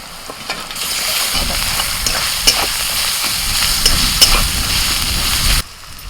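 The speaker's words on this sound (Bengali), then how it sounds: "পেঁয়াজটা একটু ভাজা ভাজা করে নিয়ে দিয়ে দিচ্ছি রসুন বাটা আর সাথে দিচ্ছি আদা বাটা" Onion sizzles in hot oil as garlic paste and ginger paste are added, a loud continuous frying hiss with occasional stirring scrapes, stopping abruptly near the end.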